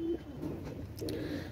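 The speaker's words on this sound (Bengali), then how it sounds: "আপনারা দেখেন ভিউয়ার্স অনেক সুন্দর কবুতর" Pigeons of fancy breeds kept for sale cooing close by, a soft low coo at the start and another swelling near the end over quiet background noise.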